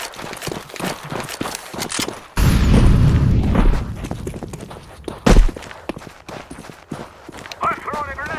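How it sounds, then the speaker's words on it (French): Grenade blast in Counter-Strike: Global Offensive, a loud low boom bursting in at about a third of the way through with a second sharp hit later, amid quick game footsteps and clatter, with a player talking throughout. "I'm throwing a grenade."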